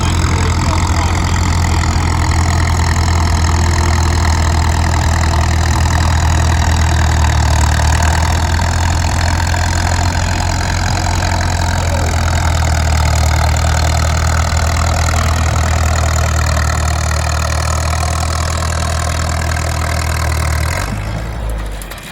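An old tractor with engine trouble idles loud and close with a steady low rumble for about twenty seconds, then the engine shuts off abruptly near the end.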